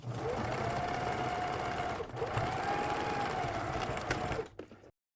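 A sewing machine stitches a lightweight 5-panel hat along the sweatband, running in two steady bursts of rapid mechanical whirring with a brief pause between, then stopping.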